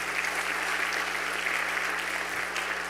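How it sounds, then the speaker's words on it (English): Dense, steady applause from an audience, sustained and even for the whole stretch, with no voices over it. "Please join me in giving the mayor another round of applause"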